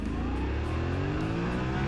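Yamaha Tenere 700 Extreme adventure motorcycle engine revving loudly and steadily close by, with rising harmonic tones of the engine climbing through the revs and no talk.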